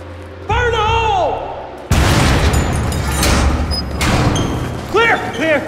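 A heavy explosion blasts open a gate in the video game Battlefield 3, a sudden booming roar that rumbles on for several seconds, while voices shout before and after it.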